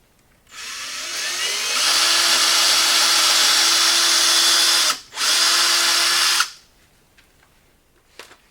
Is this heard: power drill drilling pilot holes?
yes